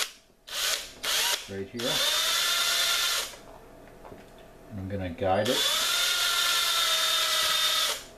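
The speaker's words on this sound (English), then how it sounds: "So I'm going to step drill, start" A power drill with a step bit drills into an antler tine, whining in two long bursts, spinning up and down with short revving starts between, loud and close, while someone speaks briefly in between.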